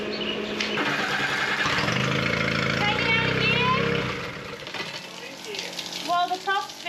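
A sailboat's starboard engine cranks and catches, running with a rough, loud mechanical drone that then drops back toward idle as people talk nearby.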